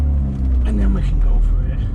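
An engine-swapped car with no reverse gear pulls rapidly off a driveway, its engine giving a loud, close, rising rumble as it revs and accelerates.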